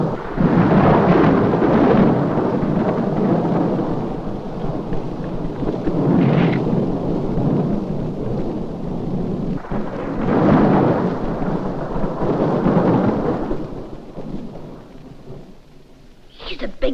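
Thunder rolls and rumbles heavily through a storm with rain, loud and sustained, swelling in several long waves before easing toward the end.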